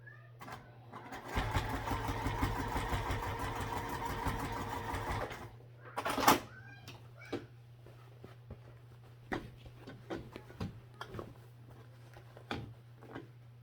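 A sewing machine bastes straps onto a bag, running in a fast, steady, close rattle for about four seconds, then stopping into scattered clicks and fabric handling.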